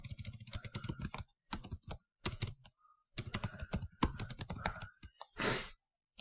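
Computer keyboard keys are typed in quick clicking bursts with short pauses between them, close and fairly clear.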